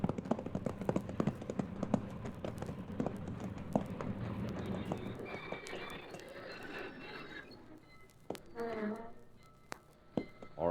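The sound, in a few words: horse hooves clip-clopping in radio drama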